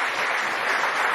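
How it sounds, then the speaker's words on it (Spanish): An audience at a political television program applauds steadily, a dense wash of clapping that holds at moderate loudness for about a second. "vamos a darle un aplauso"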